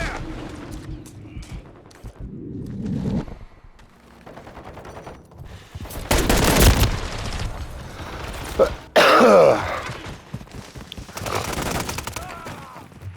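Gunfire in the video game Call of Duty Modern Warfare 3, loud bursts of shots mixed with game chatter and voices, rising and falling over about thirteen seconds.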